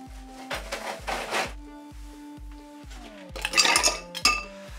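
Ice cubes are dropped and scooped into a mixing glass for a Negroni, producing a run of bright clattering knocks and clinks in quick bursts, louder toward the end.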